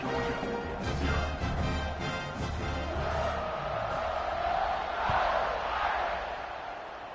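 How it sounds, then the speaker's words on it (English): A stadium crowd in the video game College Football 26 roars and buzzes after a score, a broad continuous swell of cheering that rises again toward the end. "this crowd is buzzing after that last score"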